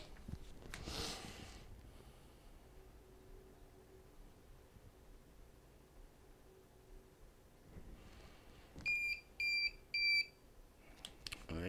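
A vehicle alarm receiver beeps three times after a key fob button is held to pair it, three short, sharp electronic tones close by following a quiet stretch with faint handling noise.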